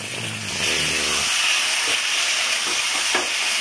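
Mutton frying in a pot roars into a loud, steady boil and hiss as hot water is poured in, with a faint stir or two over the continuous sizzle.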